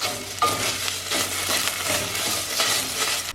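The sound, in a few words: mixing tomato paste into bean soup in a pot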